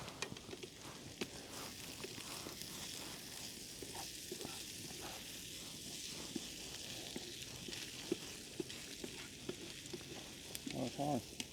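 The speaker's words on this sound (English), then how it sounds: "Let's give this a stir." Meatballs and onions frying on a Bushbox stove outdoors give a steady low sizzle, with repeated scrapes and clicks of stirring throughout and a louder clatter near the end; no talking.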